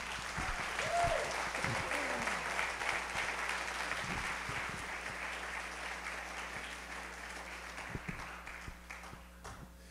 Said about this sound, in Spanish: Denle el aplauso al Señor con ganas.